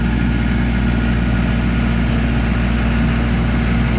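A MEP-804A military generator runs under about 35% load in a shop, putting out a loud, steady, low droning hum with a pulsing engine throb that holds unchanged throughout.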